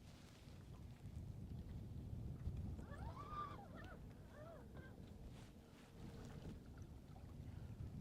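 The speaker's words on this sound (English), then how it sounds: "I'm having to use my trolling motor to go downstream a little bit just because that wind is slowing me up" A boat's trolling motor drones steadily downstream in a winter wind, a faint continuous hum mixed with gusty wind rumble on the microphone, plus a brief wavering tonal sound partway through.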